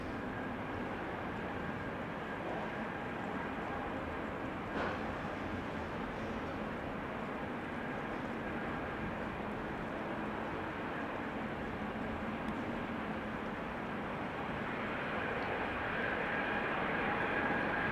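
Saudia flight 215 from Jeddah arrives at Amsterdam Schiphol, a steady, broad jet roar that holds evenly throughout and swells slightly toward the end.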